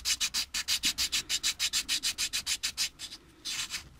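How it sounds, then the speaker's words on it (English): Rapid rhythmic back-and-forth sanding strokes on a small model car engine part, a 390 Thunderbird engine piece rubbed flat on sandpaper, about twenty quick even strokes, close and clear with a short pause near the end. "remember to cross sand as well so that we get a nice flat surface here to glue to our flat surface over here"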